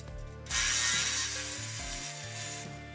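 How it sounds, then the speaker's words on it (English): Ratchet wrench and socket tightening bolts on a steel adjustable livestock alley, a loud burst of rapid clicking and grinding metal lasting about two seconds, close up and without speech. "we will need both the 9/16 and 3/4 wrench and socket"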